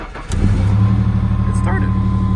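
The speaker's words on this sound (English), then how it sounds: "It's a very cold start on a 1998 Ford Mustang Coupe." 1998 Ford Mustang Coupe cranking briefly on a very cold morning, then catching and settling into a loud, steady idle close by.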